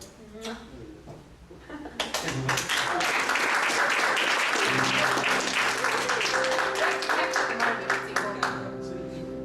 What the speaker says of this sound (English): Yelling and sore hands from clapping.